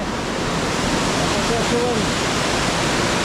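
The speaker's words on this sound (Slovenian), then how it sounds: "Tu pa tako teče naprej. Kar rata takoj, kar konkretna reka." Water from the spring-fed lake at the source of the Dabar river pours out as a stream, giving a steady, broadband rushing and gurgling that stays constant and close throughout.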